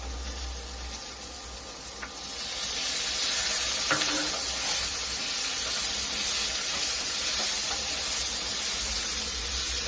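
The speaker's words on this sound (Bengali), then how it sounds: "ভাজা ভাজা হয়ে যাচ্ছে।" Chicken frying in a pan, a continuous bright sizzle and hiss that swells louder after a couple of seconds and holds steady, with faint stirring clicks in the background and no talking.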